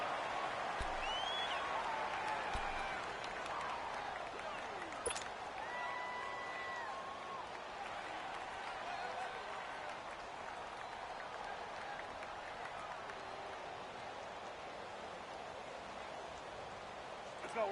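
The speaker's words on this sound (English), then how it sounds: "The crowd here in the Dome making things difficult." Stadium crowd roar inside a domed arena in a PS4 football video game, a steady, distant, noisy wash of crowd noise with faint whistles and tones over it.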